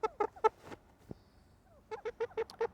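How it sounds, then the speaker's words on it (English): Chickens in a backyard flock give a series of short, clucking calls in two bursts, close and fairly loud, with a quiet gap between them. "I have a chicken pecking at my screen."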